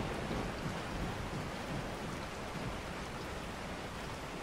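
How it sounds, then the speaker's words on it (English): A waterfall in the video game Resident Evil 4 HD gives a constant broadband rushing roar of falling water, steady and even throughout with no voices. "The waterfall."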